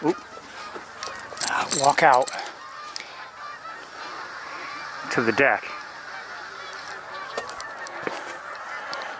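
Geese fly overhead, honking in two loud clusters of calls at some distance, with quieter outdoor background between them and a person briefly speaking.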